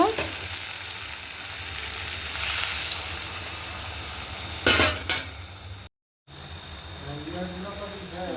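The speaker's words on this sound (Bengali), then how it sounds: "দেখো পনিরটা দিয়ে দিয়েছি, এটা ভালো করে একটু কষাই" Paneer sautéing in a pointed gourd masala with little gravy, a steady close sizzle with occasional stirring scrapes and a brief louder burst, a short dropout partway through.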